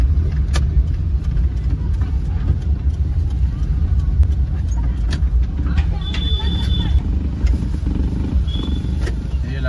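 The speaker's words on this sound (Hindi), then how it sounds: "ये लगा दी हमने गाड़ी पार्किंग में" A car pulls into a parking spot at Gabbar hill, its engine giving a steady, close, low rumble for the whole stretch, with voices faintly in the background.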